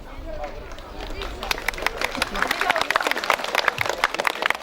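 Audience applauding at a school graduation ceremony for eleventh-grade students, a dense rising wash of many hands clapping that swells over the clip, with crowd murmur and some voices beneath.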